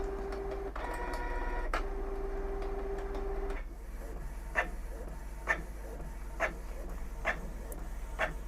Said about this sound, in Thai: สั่งงานจากมือถือได้แล้วนะครับโอเคสั่งปริ้นเลยครับ